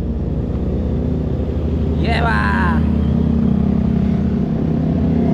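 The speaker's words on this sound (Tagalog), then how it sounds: "Ganda na motor, oh." Big bikes ride past near a ship crossing, a steady engine rumble rising under excited talk and shouts throughout, with a brief high whine partway through.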